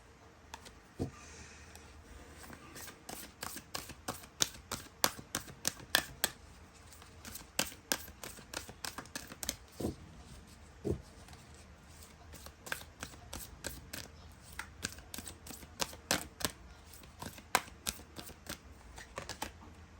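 Tarot cards being shuffled and drawn during a Hindi love reading, a long run of crisp, rapid riffling clicks at close range, steady and fairly quiet, with no talking.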